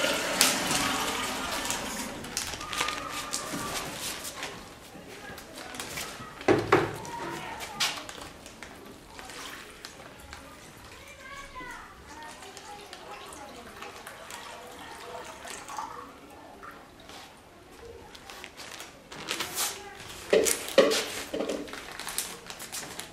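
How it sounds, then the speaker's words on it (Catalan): Water runs from a sink tap into a plastic bag, splashing and gurgling in irregular bursts, with rustling and clattering of the bag at moderate, varying loudness. "Omplim la bossa de plàstic amb l'aigua."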